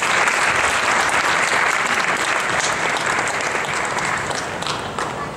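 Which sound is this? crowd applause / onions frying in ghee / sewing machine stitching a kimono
crowd applause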